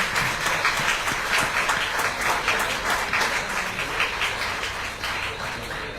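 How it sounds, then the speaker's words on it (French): A crowd outdoors in Guadeloupe at a cycling tour presentation breaks into sustained, lively applause, many hands clapping densely and loudly without pause. "Je veux entendre des applaudissements tout de suite"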